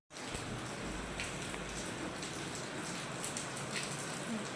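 Light rain falls steadily outdoors, a soft, even patter with occasional sharper drops close by, quiet and continuous with no voices.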